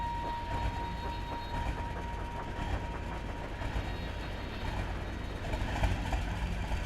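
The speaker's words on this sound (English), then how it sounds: "Donald puffed away with his train, leaving behind a hurt BoCo." A steam locomotive pulls its train along steadily with a chugging, rolling rhythm and rattling wagons, moderately distant and continuous, with no voices.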